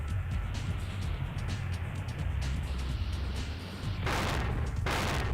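A rocket in the PS1 game Spyro: Year of the Dragon gives off a loud, continuous low rumble with a crackling noisy texture, swelling into two sharper bursts near the end.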